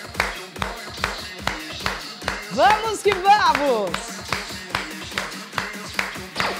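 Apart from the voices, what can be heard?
hands clapping during exercise class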